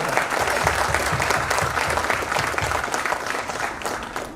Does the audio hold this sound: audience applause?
yes